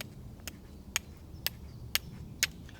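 Flint and steel strike together five times in an even rhythm, each a crisp, bright scrape-click about half a second apart, close and fairly quiet against faint background noise.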